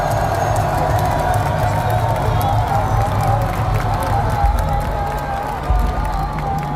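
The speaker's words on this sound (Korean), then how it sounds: "여러분, 다시 한번 큰 박수 부탁드립니다." A large outdoor campaign rally crowd in Seoul City Hall Plaza cheers and applauds a former prime minister. A loud, continuous roar of voices and clapping carries steadily throughout, with shouting rising above it.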